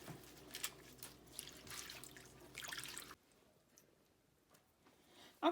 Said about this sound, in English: now this is the second time that I'm washing my greens